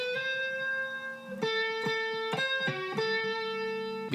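An electric guitar plays a blues lick with no string bends or vibrato, giving a sequence of plain, straight sustained notes with sharp picked attacks, clear and alone.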